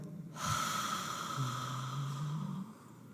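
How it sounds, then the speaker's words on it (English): A slow, deep breath drawn in through the nose and then released out through the mouth, a close soft airy rush lasting a few seconds with no talking. "you breathe through the nose, deep breath, and breathe out through the mouth"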